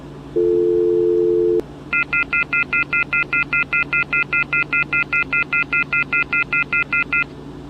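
Telephone off-hook tone after a phone company software upgrade: a steady single tone for about a second, then a fast, loud, evenly pulsing series of beeps that repeats for several seconds.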